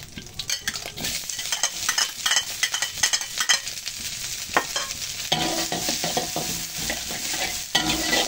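Ingredients for fried rice are stirred and fried in hot oil, giving a steady sizzle under repeated scraping and clanking of a spatula against the pan, close and fairly loud throughout.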